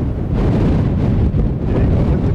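Gusty outdoor wind batters the microphone in a steady, loud low rumble with surging buffets, where an RC Strix Goblin 6s plane is being flown; no speech is heard.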